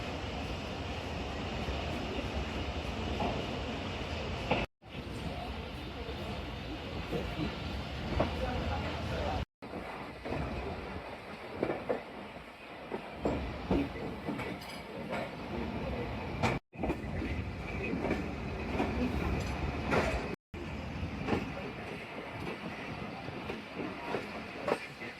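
Tezgam Express passenger train in motion in the rain, a continuous rumbling roar with rattling wagons heard from on board, broken by a few short cuts, with voices faintly mixed in.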